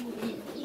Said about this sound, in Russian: Это очень породистые голуби.